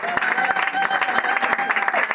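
A church congregation claps and cheers in praise, dense steady applause with sharp individual claps throughout, a voice calling out over the crowd.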